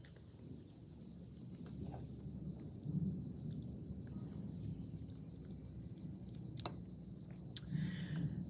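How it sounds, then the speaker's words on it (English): Thunderstorm with rain outdoors, a low continuous rumble of distant thunder and steady rainfall, faint and far off, with a slightly louder swell near the third second and again at the end; no voices. "It feels like it's getting stormy and rainy. There's some noises."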